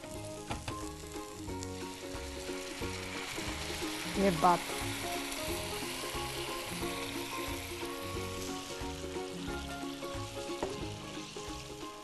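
Matki broth pours into sizzling masala for Kolhapuri misal, and the hot pan gives off a loud, continuous frying hiss and crackle that holds steady over a faint musical background.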